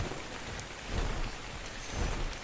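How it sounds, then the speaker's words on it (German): Steady rain falls in the Ark Survival Evolved game world, a dense even wash of patter with faint rumbling swells, continuous and moderately loud with no talking. "Ja, aber Regen ist immer öfter hier"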